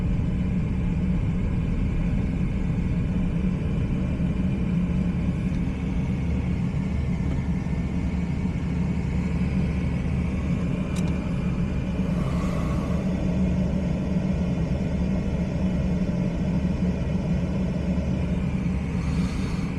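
From inside a car on a driving test route in Hull, a steady low engine rumble and road noise go on unbroken as the driver eases off the gas, with no talk.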